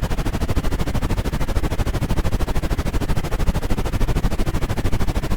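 Helicopter lifting off in a virtual training flight simulator, a rapid, even rotor chop that beats steadily and loudly throughout without any voices.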